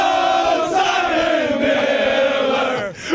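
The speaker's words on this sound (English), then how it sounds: "People tell me that I shouldn't let the cheering go on." A large arena crowd at WWE WrestleMania 40 cheers and roars continuously at close range, a dense sustained wall of voices that dips briefly near the end before surging again.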